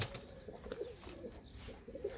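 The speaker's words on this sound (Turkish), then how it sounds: "Ha kumru gelmiş." A turtle dove coos softly several times in a short sequence, faint and close, with quiet background noise.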